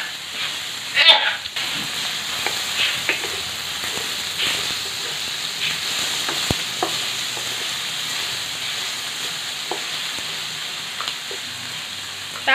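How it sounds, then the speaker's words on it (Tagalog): Cooked shrimp paste (bagoong) is stirred by hand in a pan, giving a steady soft scraping and sizzling texture throughout with small irregular clicks, moderately close and without talk. "Basta haluin lang natin siya ng haluin."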